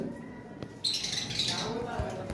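A caged bird offered for sale, calling with a few squawks and chirps against a noisy background, the calls fairly close and mixed with other ambient noise.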